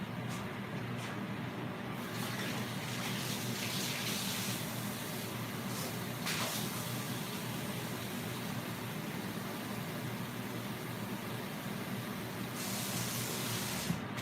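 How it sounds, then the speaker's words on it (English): Water pours and sizzles steadily into a hot pan of darkened drippings for Salisbury steak gravy, a continuous loud hiss with a few brief bursts, no talking. "only thing we gotta do now is start adding water"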